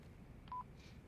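A single short touch-tone beep sounds once at mid-level while a phone is dialed in the video game Yakuza 4, over a steady low background hum.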